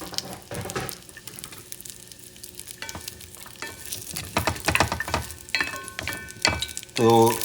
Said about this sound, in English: Using the same pan, lower the heat to a couple notches below medium. Put your chorizo.